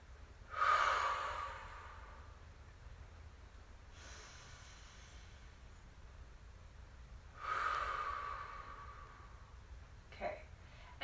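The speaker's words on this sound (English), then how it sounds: "So we're going to work with 2 breaths again." Slow, deep breaths taken during a relaxation exercise, heard close and soft. Two long inhales come several seconds apart, each trailing into a quieter exhale, with a faint short sniff near the end.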